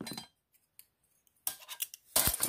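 Metal cutlery from a Swedish M40 mess kit is handled, a serrated knife clinking and scraping in a few short, close, crisp bursts separated by near silence.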